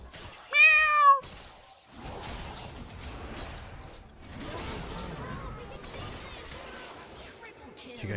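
A short, loud cat meow in the video game League of Legends rings out early, followed by quieter game effects, creaks and clatter.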